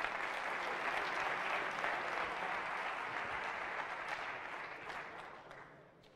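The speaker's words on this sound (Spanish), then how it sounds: "Pues otro fuerte aplauso" Audience applause after a security conference talk on phreaking at Navaja Negra, a steady crowd of clapping that gradually fades toward the end.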